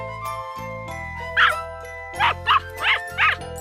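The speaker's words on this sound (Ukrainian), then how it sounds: "Щеня." A puppy yaps in a quick series of sharp, high barks, one early and then three close together, over a steady tonal backing with a faint tinkling jingle.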